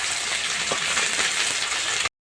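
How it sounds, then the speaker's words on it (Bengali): Fish sizzle steadily as they fry in hot oil, a dense, even crackle that runs loud and unbroken for about two seconds, then cuts off. "মাছগুলোকে লাল লাল করে ভেজে নেব প্রথমে"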